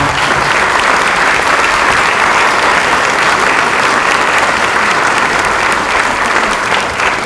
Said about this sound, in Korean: 우리 의원님들 당선인들께서 격려의 박수를 좀 부탁드리겠습니다.